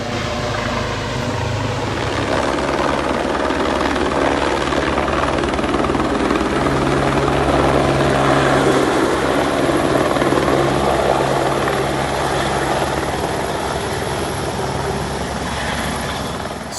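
A helicopter flying close by, its loud steady rotor thrum and engine whine continuous and unbroken throughout.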